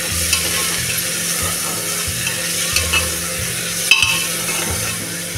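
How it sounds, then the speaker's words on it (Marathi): Brinjal sautéing in a pan with ginger, garlic and coriander, a steady close sizzle with scraping stirs and an occasional clink of the spoon against the pan. "हे आता आपण एकसारखं परतून घेऊया।"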